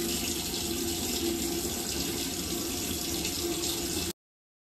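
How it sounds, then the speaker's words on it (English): Water from a tap runs steadily onto a hand to wet hair for styling, a loud continuous splashing rush that cuts off abruptly near the end. "I'm just gonna take some water on my hand."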